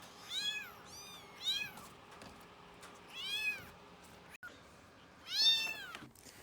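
Young kittens meowing indoors, four high, rising-and-falling calls spaced a second or two apart, fairly close, with no talk.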